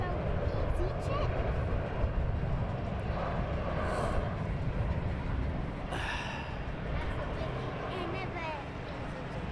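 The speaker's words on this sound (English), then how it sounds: "Taxiing out for departure." EasyJet airliner taxiing out at London Luton Airport, a steady broad jet rumble and whine that holds evenly throughout, with some breathy noise near the recording device.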